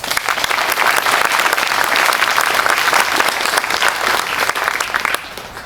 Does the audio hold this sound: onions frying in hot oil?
no